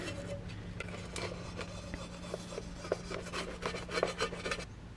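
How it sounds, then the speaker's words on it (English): A plastic putty knife scrapes old gasket maker off a Ford F150 rear differential cover in repeated short rasping strokes, close and fairly quiet over a steady low hum. "Scrape the old gasket maker out of here."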